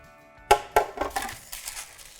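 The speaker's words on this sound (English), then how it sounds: "I take my baking sheet" Metal baking sheet picked up and set down in a kitchen while making cranberry orange scones: two sharp clanks with a ringing metallic tone, then lighter rattles and scrapes fading off.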